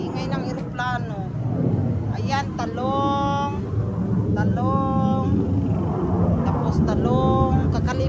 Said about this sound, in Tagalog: Ingay ng eroplano.